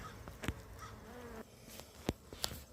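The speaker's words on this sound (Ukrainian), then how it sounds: "бджолки почали нести пилок" Honeybees buzzing around a beehive entrance as they bring in pollen, a steady close insect drone with a few sharp knocks and clicks breaking through.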